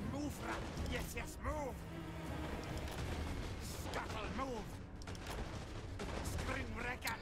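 Organ guns firing during a Skaven battle in a strategy video game, rapid overlapping volleys of gunfire and booms running throughout under steady battle noise, with someone talking over much of it.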